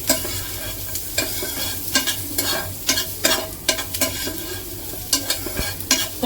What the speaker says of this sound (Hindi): तो हल्की सी हम अपनी प्याज को सौटे कर लेते हैं